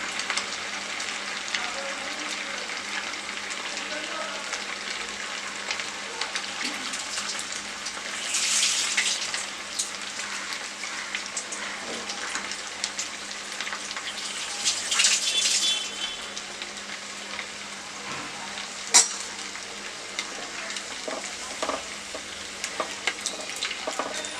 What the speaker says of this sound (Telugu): కొద్దిసేపు స్లో ఫ్లేమ్లో కొంచెం ఉడికిన తర్వాత అప్పుడు మనం హైలో పెట్టుకుంటే బోండా అనేది లోపల బయట అంతా మంచిగా ఉడుకుతుంది